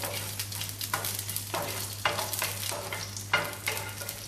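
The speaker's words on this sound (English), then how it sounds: "Once your mustard seeds start popping, drop in your curry leaves and your dried red chili." Curry leaves and dried red chili fry in hot oil with mustard seeds for a South Indian fish curry, giving a steady sizzle broken by regular stirring scrapes about every half second, close up with no talking.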